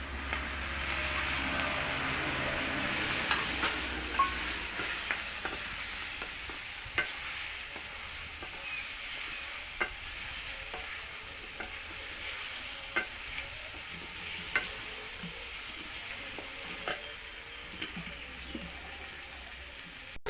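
Shrimp sizzle steadily in a pan with turmeric, the frying hiss running throughout at low level while a utensil stirs with occasional scraping clicks, no voices.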